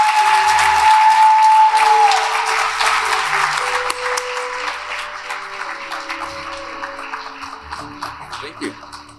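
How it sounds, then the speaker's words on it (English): A crowd at a business awards ceremony applauds as a guest comes to the stage, starting loud and full, then gradually thinning over several seconds while a sustained musical tone and a voice come through. "let's give him a great round of applause."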